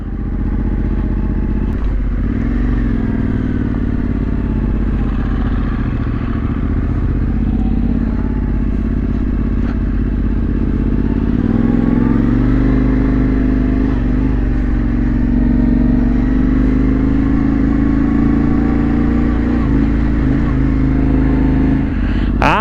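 Off-road vehicles leaving a farm onto a road section at a trail-riding memorial event, a loud, close engine drone running throughout with rising revs and clatter.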